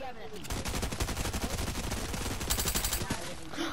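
Rapid SMG bursts rattle continuously in a shooter video game, dense fast repeated shots filling nearly four seconds at close, loud level with no talking.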